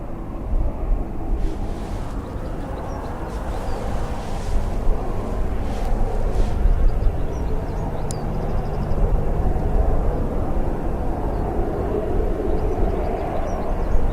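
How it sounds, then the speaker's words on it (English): A steady aircraft engine drone at an airfield, a loud broad roar that builds gradually over the span, mixed with wind buffeting the microphone and no talking. "As you can hear, the tone of the aircraft is getting louder and louder"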